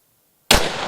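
A single sharp rifle shot cracks out loud and close after a moment of silence, its report ringing and decaying during a precision shooting match.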